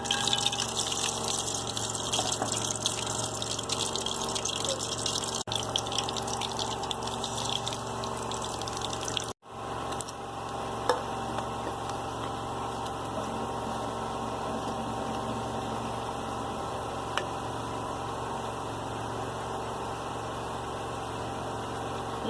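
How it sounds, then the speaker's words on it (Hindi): A besan-battered bread pakora sandwich, Karachi street-food style, fries in hot oil with a steady, close, loud sizzle that briefly cuts out midway before continuing. "तेल गरम है, अब मैं इसमें डाल रही हूँ।"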